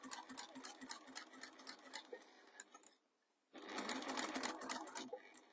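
A Clio B7 sewing machine stitches along bias fabric in quick rattling bursts, pausing briefly for about half a second near the middle before resuming louder and steady.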